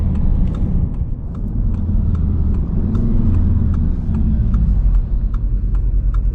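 A 2019 Audi TT S accelerating hard as its turbocharged engine builds boost, heard from inside the cabin as a steady, loud, low engine drone with road rumble and little else.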